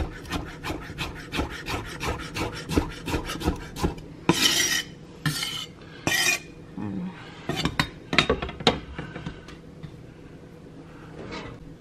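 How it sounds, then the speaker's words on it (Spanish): A knife slices through a cucumber on a cutting board, a steady run of quick crisp chops that then give way to scattered louder scraping and knocking strokes, close and clear with no talk. "Bueno, seguimos cortando nuestro pepino."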